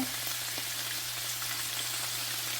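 Water spinach (kangkong) stems cooking in a pan with soy sauce for adobong kangkong, a dense even sizzle throughout with a low steady hum underneath.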